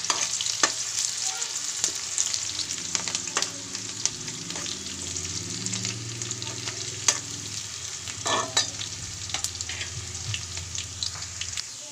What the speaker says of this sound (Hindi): ऑनियन को हमने गोल्डन ब्राउन होने तक फ्राई करना है।